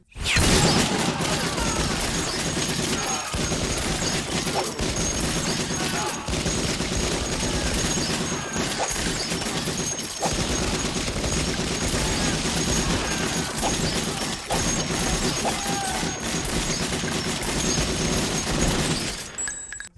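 Dense gunfire fills gun fu combat in the Raw Data VR game, rapid sharp shots in a near-continuous fusillade over twenty seconds with brief pauses, loud and close.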